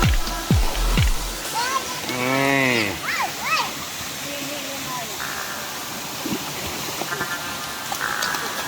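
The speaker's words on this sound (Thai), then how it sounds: "มาเสพบรรยากาศธรรมชาติฟังเสียงน้ำตก" A steady rush of a waterfall in Fak Tha, Uttaradit, Thailand fills the background while voices call and chatter over it, some high and sing-song.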